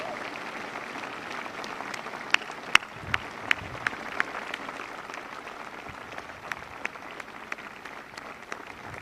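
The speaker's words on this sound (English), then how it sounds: "Give yourselves a round of applause." A crowd of sailors aboard the aircraft carrier USS Ronald Reagan applauds with steady, sustained clapping, a few sharp individual claps standing out near the front.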